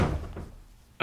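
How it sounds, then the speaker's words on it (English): A door thumps shut once near the end, after a quiet stretch of room tone. "And you mind shutting the door?"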